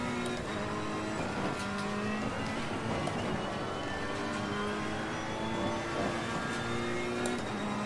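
A race car in a racing video game drives on track to heat its tires, its engine droning steadily with shifting revs and tonal whine, continuous and moderately quiet with no voices.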